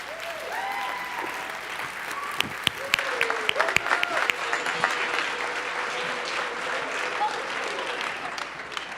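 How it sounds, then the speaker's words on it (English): An audience gives a school group from Parkway Northwest High School for Peace and Social Justice a loud, sustained round of clapping that carries on for several seconds, with cheers and voices mixed in near the start. "Let's give a big round of applause for Parkway."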